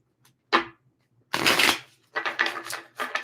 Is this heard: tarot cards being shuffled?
yes